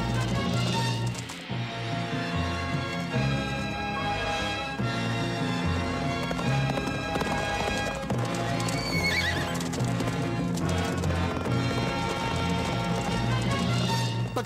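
A horse gallops and whinnies in an animated Aladdin musical scene, rapid hoofbeats and a neigh set within loud orchestral song that dominates throughout.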